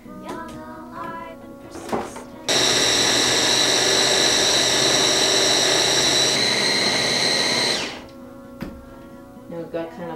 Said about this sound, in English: And then we'll take the magical hand blender